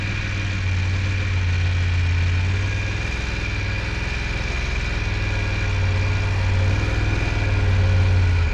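A motorcycle engine runs at low, steady revs during a slow-speed U-turn, a loud, even droning hum close by with slight rises in throttle and no voices.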